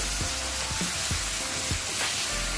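Pork liver for menudo hits a hot pan and sets off a loud, steady sizzle close by, with a few soft knocks of a spoon or spatula stirring at regular intervals and no voices.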